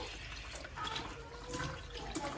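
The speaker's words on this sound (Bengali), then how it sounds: "তো আমি এবার এটা খুব ভালো করে ঠান্ডা জলে ধুয়ে নেবো" Dried fish being rinsed in cold water by hand, with broadband splashing and trickling water sounds that run steadily and close up, no talking.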